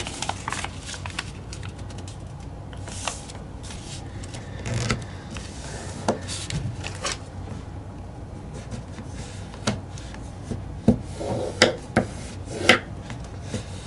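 Paper being folded and creased by hand for a paper airplane, with repeated soft crinkles and sharp close creasing taps that bunch up near the end, with no talking.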